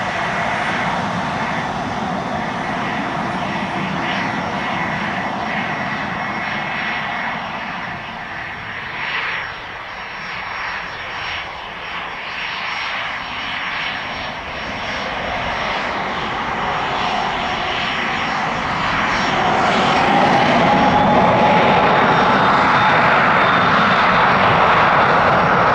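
An aircraft, likely a business jet or general aviation plane, takes off from runway 26 left at Spirit of St. Louis Airport, its engine roar loud and steady throughout, swelling louder near the end.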